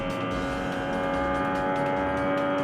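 A Formula 1 car on track at the Australian Grand Prix, heard onboard as a steady high-pitched engine note that holds and climbs slightly under gentle throttle through a corner exit, continuous and close.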